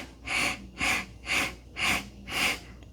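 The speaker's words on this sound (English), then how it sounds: "inhale in 8 sniffs" Five sharp nasal sniffs repeat evenly about half a second apart, close and clear, as a person inhales in short bursts during a breathing exercise.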